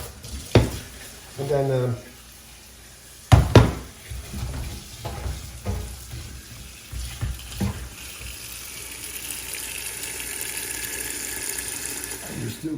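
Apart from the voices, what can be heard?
rinsing food under running tap water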